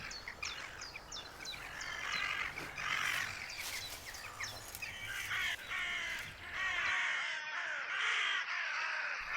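Many crows caw repeatedly overhead, a loud overlapping chorus of harsh calls with no pauses, outdoors.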